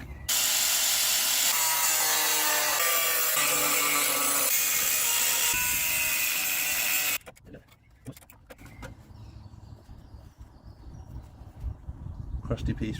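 A power cutting tool grinds loudly and steadily through rusty metal on a car's rear wheel arch for about seven seconds, then stops abruptly, leaving quieter handling clatter and scraping.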